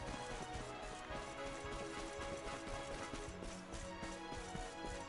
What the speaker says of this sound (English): Got some horses and sheep.